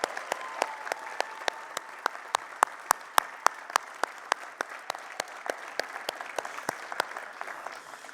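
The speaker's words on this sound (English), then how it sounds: "Corey, how about a round of applause for Corey Miller, who's done so much." A round of applause at the 2021 Syracuse University alumni awards: sparse, distinct handclaps from a small audience in an even rhythm, crisp and fairly close, with no talk over them.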